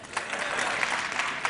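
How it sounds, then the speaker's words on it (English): Audience at a talk clapping briefly, a dense, even patter of many hands at moderate loudness with no speech over it. "if you know Hindi, please clap"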